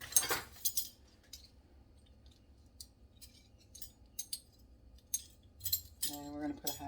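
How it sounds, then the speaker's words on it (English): Metal measuring tablespoons clink and tap together in a kitchen while buttermilk biscuits are made, giving faint, sparse clicks scattered across a quiet background, with a voice briefly at the end. "So I'm going to get my tablespoons out."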